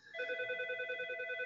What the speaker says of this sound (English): Sorry about the telephone ringing there in the background.